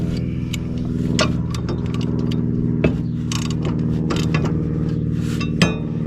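Someone tightening a bolt on a Husqvarna Z248F zero-turn mower while changing its blades, heard as close, rapid metallic ratchet clicks with a few sharper clinks and knocks over a steady mechanical hum, with no talking.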